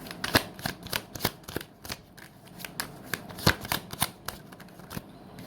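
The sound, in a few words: shuffling tarot cards to draw another card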